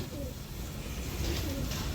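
Pet pigeons cooing softly at a seller's loft, low murmuring coos repeating steadily beneath a constant background hum, with no speech over them.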